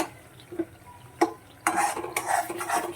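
Mashed brinjal is being stirred into gravy in a pan, with a few light taps of a spoon followed by wet, squelching scrapes against the metal and a soft sizzle underneath, close and with no talking.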